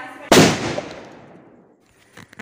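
A single firecracker set off with a battery and wires goes off in one sharp, loud bang, followed by a long fading rumble and a few faint knocks afterward.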